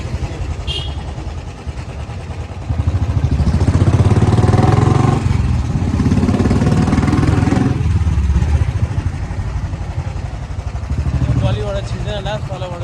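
A motorcycle engine drones steadily during a ride, swelling louder in the middle stretch and easing back, with people talking over the running engine.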